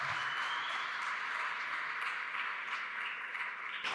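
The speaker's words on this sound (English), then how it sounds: "let's give it up for Amir. Round of applause." Conference audience applauding a speaker at an AI quality event, a continuous even wash of clapping heard at a distance, fairly faint, with no talk over it.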